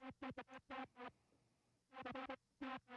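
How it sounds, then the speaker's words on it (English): A synth support layer fills out the second drop of an electronic track, playing short rhythmic bursts of bright harmonic chords with a quiet gap in the middle before the stabs return. "I also added this support layer to just help fill out the sound a little bit in the second drop"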